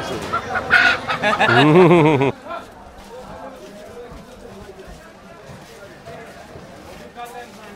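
At a morning market, a castrated rooster gives loud, close, drawn-out clucking calls for about two seconds, then a quieter background of market bustle and murmuring voices continues.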